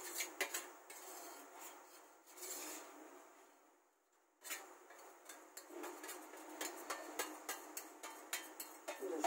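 Ghee being spread on a plate for burfi, heard as soft scraping and rubbing strokes with quiet clinks of utensil on plate, close and faint, with a brief pause midway and no talking.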